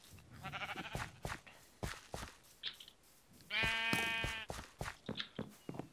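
Sheep in a sheep quest video game bleat in a loud, wavering cry midway, with shorter bleats and bumps scattered around it.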